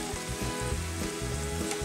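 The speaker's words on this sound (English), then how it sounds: "I'm gonna let those sizzle away and get a little bit of color on them." Hot dogs sizzle steadily and close up in a hot pan, a continuous crackling hiss with no voices.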